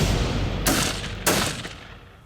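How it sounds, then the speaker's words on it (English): Two sharp rifle shots fired at a boar during an evening hunt in fog, about half a second apart, each a loud crack trailing into a fading rumble outdoors, no voices. "So Wook and I lined up a shot, and we took it."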